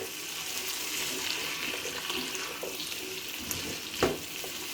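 Okra (bhindi) with soy sauce sizzles softly in a pan under a watery hiss, with a spoon scraping and a brief louder clatter near the end.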